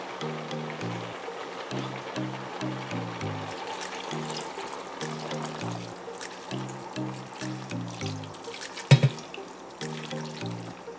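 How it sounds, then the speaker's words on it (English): Water pours into a pot of Jamaican vegetable stew as a steady trickling stream under background music, with one brief splash near the end. "I'll be pouring the water in now."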